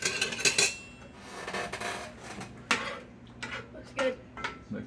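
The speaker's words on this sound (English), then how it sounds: "Let me get a big spoon here." A big metal spoon clinks and scrapes in a skillet, several sharp knocks and rubbing strokes close up over faint background hum.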